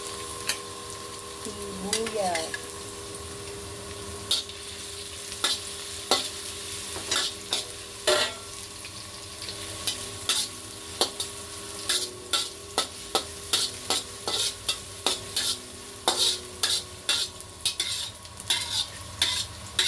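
Onion being stir-fried with browned garlic in a pan while cooking pancit bihon guisado, a steady sizzle under frequent sharp spatula scrapes and taps against the pan, close and fairly loud, no talking.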